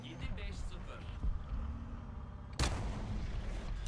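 A Boxer MGS tank fires its cannon in a video game, one sharp booming blast late in the clip over engine rumble, with a voice talking beneath.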